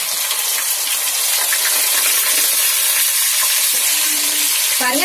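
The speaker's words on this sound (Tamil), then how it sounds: "இப்போ நம்ம இதுல வந்து சிக்கன் ஆட் பண்ணிக்கலாம்" Chicken fries in hot oil with spices, giving a steady, loud, close sizzle and crackle throughout, with a few stirring clinks and no voices.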